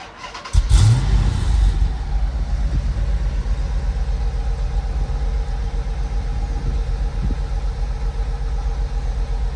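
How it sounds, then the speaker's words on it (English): A 2006 Chrysler 300 SRT8 engine cranks and fires with a loud burst at startup, then settles into a steady, deep rumbling idle that carries on alone. "we're gonna get it started up here"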